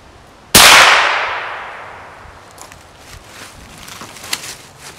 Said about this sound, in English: Shot one.